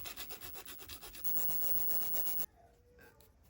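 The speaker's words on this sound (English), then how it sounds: "I think the quick answer is just to kind of shave that down a little bit and see if we can reduce some of that rubbing." A brass weight rubbing on an RC car steering knuckle is shaved down with quick, rhythmic back-and-forth scraping strokes, close and steady for about two and a half seconds, then stopping into near quiet.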